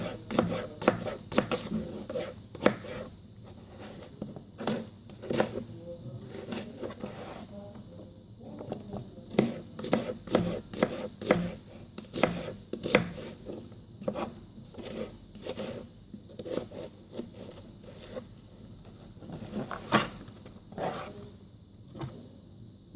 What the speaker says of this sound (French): Les oignons, on va émincer ça.